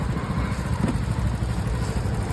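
Motorcycle engine rigged to drive a wooden mill grinding sesame into kachariyu, running as a steady, close, rumbling drone with light clatter and no pauses.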